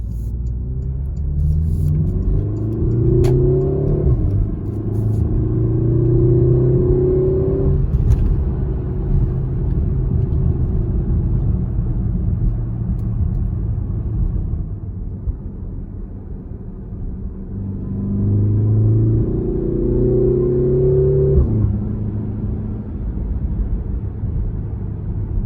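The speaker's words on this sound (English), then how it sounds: "And gonna do a quick acceleration" Porsche Macan with a Flat 6 Motorsports intake and Porsche sport exhaust, windows up, in sport mode, heard from inside, with two loud accelerations rising in pitch through the gears, separated by a quieter rumbling stretch.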